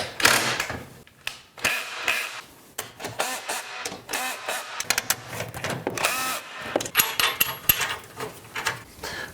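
An impact gun fires in repeated short bursts, rattling and buzzing as it drives bolts on a Supermax 1632 drum sander stand, with brief pauses between the loud mechanical runs.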